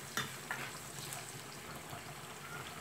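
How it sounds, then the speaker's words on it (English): Onions with a little salt fry in a pan, giving a steady, fairly quiet sizzle with a couple of sharp pops and crackles near the start, and no one talking. "You wait till your onions get fried."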